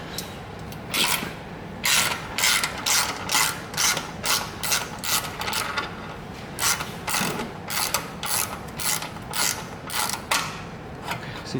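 A hand ratchet loosens the muffler clamp bolt on a 2017+ Harley-Davidson Touring with a Milwaukee-Eight engine. The rapid clicking comes in repeated close, loud bursts with steady rhythm.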